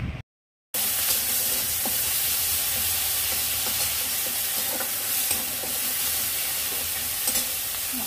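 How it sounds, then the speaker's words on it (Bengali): Spice paste with salt being stir-fried for taro curry: a brief cut, then a steady close sizzle with scattered scraping and stirring knocks throughout, no voices. "এবার মশলাটা 2 মিনিট ভালো করে কষে নেব।"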